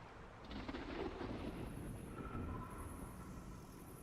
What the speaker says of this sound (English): the thunder through here sounds awesome